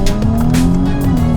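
A new Nissan Z with a warm engine pulls hard at full throttle, giving a loud, steady, close engine roar with strong harmonics and a faint tire-squeal edge throughout.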